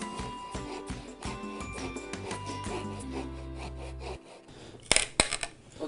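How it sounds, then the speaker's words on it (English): A hand saw cuts wood for an instrument, making rhythmic rasping back-and-forth strokes, then a sustained lower grinding tone, and finally a few sharp knocks. "next we use a saw for finer cuts."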